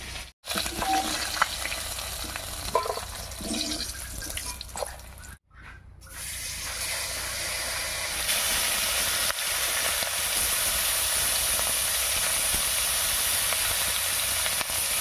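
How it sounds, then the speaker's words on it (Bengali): Shol (snakehead) fish frying in hot oil in a pan gives a steady, close sizzle. It breaks off briefly partway through, then returns as a louder, brighter hiss. "মাছটা ভাজা হতে থাক"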